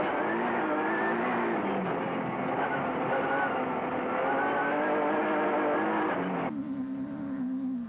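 A Jimco Chevy 4.8 off-road race car roars loudly at close range, its powerful engine droning steadily before the pitch drops sharply as it passes, with a voice talking over it.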